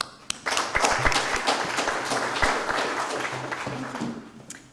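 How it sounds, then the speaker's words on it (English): A conference audience at a scientific Python event applauds a speaker, dense sustained clapping that starts after a sharp clap and fades near the end, fairly loud and close. "Let's give her a warm round of applause."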